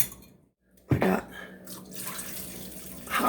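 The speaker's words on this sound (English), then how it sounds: "I just got it hot out of the sink." Hot water runs from a kitchen sink tap: a brief quiet, then a sudden gush as the flow starts, settling into a steady running stream close by, with a louder splash near the end.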